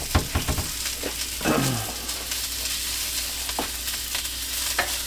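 Sausage and bread fry in a pan, giving a steady sizzle with scattered pops and scraping clicks as the pieces are turned, close and fairly loud, with no talking.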